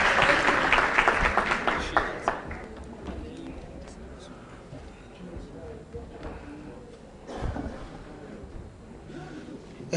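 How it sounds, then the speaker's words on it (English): An audience at a business and entrepreneurship talk gives a round of applause for a speaker; clapping swells briefly at the start, then fades into scattered claps and room noise with a voice talking. "Can we give him a round of applause, ladies and gentlemen?"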